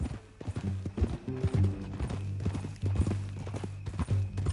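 Steady hoofbeats of a horse clip-clop along at a walking pace in Red Dead Redemption 2, blending with creaking tack and low ambient hum, with no talking.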